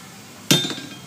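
Single sharp metallic clink as metal bracketry on a 2005-2010 Jeep Grand Cherokee is shifted aside during A/C condenser removal, a close, bright hit with a short ringing tail.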